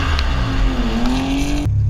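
Nissan 240SX with a single-cam KA24E engine drifting on a rain-soaked surface, its engine holding a loud, steady drone whose pitch slowly climbs before cutting off abruptly near the end.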